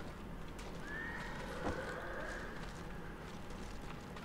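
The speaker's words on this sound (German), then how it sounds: "Ein Pferd." A horse in the video game Ghost of Tsushima gives a single clear whinny, with soft hoof clip-clops and quiet ambient game sound around it.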